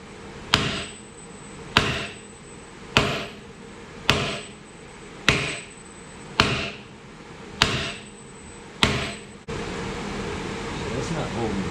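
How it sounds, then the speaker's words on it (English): A hammer strikes round stock to loosen stuck pins on a 6-way blade: about eight sharp metallic blows, evenly spaced a little over a second apart and close by, followed by a steady mechanical hiss. "we're gonna see if we can put some pressure on it and then maybe beat it with a hammer"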